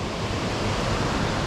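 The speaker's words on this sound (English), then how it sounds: "Oh, there's a waterfall here." An unnamed waterfall roars in a canyon along the Grand Canyon track to Beauchamp Falls in the Blue Mountains, a dense, steady rush of water that holds at the same level throughout with no voices.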